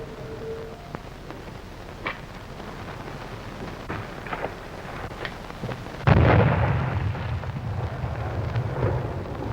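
A bomb explodes in a 1936 film, a sudden deep boom that rolls on into a rumbling roar after several seconds of quiet background crackle.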